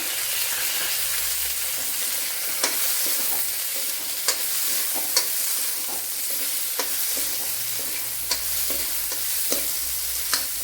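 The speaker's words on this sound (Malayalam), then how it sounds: "ഇതിനെ നല്ലവണ്ണം ഒന്ന് വഴറ്റിയെടുക്കാം. കൊച്ചുള്ളി വഴണ്ട് വന്നിട്ടുണ്ട്." Shallots and a large tomato sauté in a pan of hot oil for a bitter gourd curry. A loud, dense sizzle runs throughout, close by, with occasional scrapes and taps of a spoon stirring.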